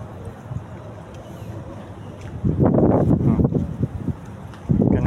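Wind gusts buffet the microphone outdoors, a low, rough rumble that grows louder and heavier partway through and surges again near the end.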